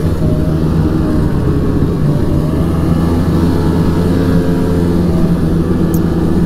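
Polaris Edge X 800 snowmobile engine at about quarter throttle on a test ride: a loud, close, steady two-stroke drone with a constant low rumble and buzzing harmonics, holding even throughout with no speech.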